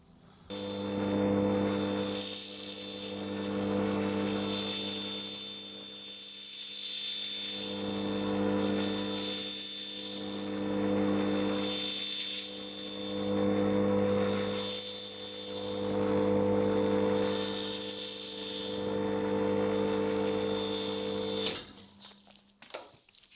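Vehicle lift raising a 2012 Peugeot 208 1.2 petrol in a workshop, a steady electric motor hum with pulsing hiss swelling in regular waves for about twenty seconds, then stopping with a clunk and a few rattles.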